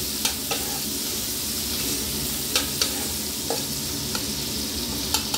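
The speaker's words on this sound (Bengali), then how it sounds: "পেঁয়াজগুলো বেশি লাল করে ভাজা হবে না, কিন্তু আবার একটু হালকা ভাজা করতে হবে" A steady low sizzle of onions frying lightly in a pan, punctuated by several sharp clicks and scrapes of a spatula stirring.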